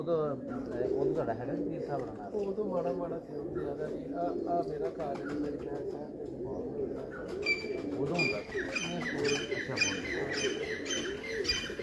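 Pigeons cooing in a loft kept by pigeon fanciers, low repeated coos mixed with scattered chirps, heard beneath steady nearby talk.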